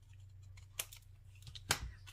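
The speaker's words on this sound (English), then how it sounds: "Now I need to cut a little bit off of here," Scissors cutting a small piece off a paper card: two crisp, quiet snips about a second apart, close and alone in a near-silent room.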